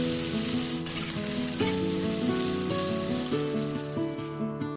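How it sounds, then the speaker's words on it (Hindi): Chopped vegetables fry in ghee after a green chilli tempering for tahari, giving a steady close sizzle under music. "पहले ना हरी मिर्च का तड़का डाल करके इसमें सब्जियों को अच्छे से भून लिया"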